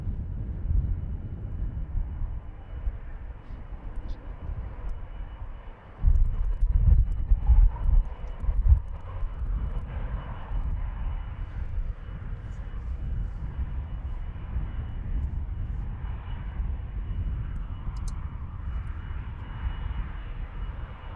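A Boeing 777-200 departing runway 36L at Amsterdam Schiphol rumbles at a distance, a low steady engine roar that swells in a brief gusty surge and then holds, with no voices over it.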